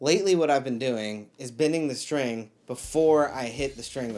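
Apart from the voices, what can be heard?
No everyday noise stands out behind the speech.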